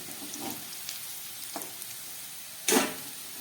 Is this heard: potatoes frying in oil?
yes